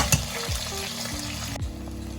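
Roughly cut onions frying with roasted spices for sambar give a continuous close hiss and crackle of hot oil, steady throughout with faint tonal background hum and no speech.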